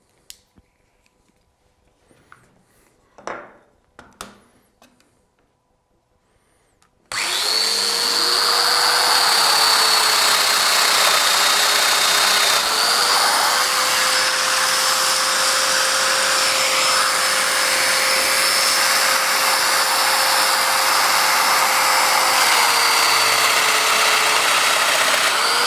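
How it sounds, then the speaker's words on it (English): A Festool Domino DF 500 jointer cuts round-profile domino mortises, its motor starting abruptly after a few quiet handling clicks and then whirring loudly and steadily with a slight pitch shift midway. "switch the machine on, and we can make the two cuts and we can join our material together"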